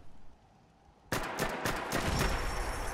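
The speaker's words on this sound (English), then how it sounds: "I hear a turret." Automated turret fire in Fallout 4 starts suddenly after a quiet moment and continues as loud, rapid, overlapping bursts of gunshots until the end.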